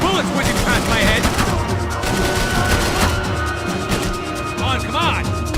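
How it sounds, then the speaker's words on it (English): Dense, continuous gunfire in the video game Max Payne 3: loud, overlapping rapid shots and bursts with impacts, under urgent in-game voices talking. "I can't concentrate with bullets whizzing past my head!"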